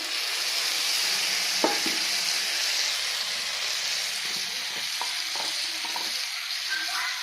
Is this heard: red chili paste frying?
yes